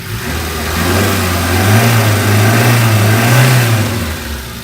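A Hyundai i10 engine, just repaired for tappet noise, revving up from idle to a sustained higher pitch and easing back down, loud and close with a smooth hum and no voices.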